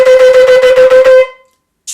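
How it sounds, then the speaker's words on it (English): A shofar sounds the teruah, a run of nine short, rapid staccato blasts. The bright, loud horn notes stop abruptly, leaving silence. "a teruah, is blown with 9 short beats, and it sounds like this."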